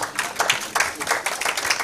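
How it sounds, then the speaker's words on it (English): Applause for a speaker at a diaspora homecoming convention in a hall, a dense wash of many hands clapping at once, fairly loud and continuous. "A round of applause for Prof again."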